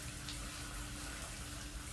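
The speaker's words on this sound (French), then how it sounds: "c'est une douche assez rapide" A shower runs in Alien: Isolation, a faint, steady hiss of falling water that continues evenly with no breaks and no voices over it.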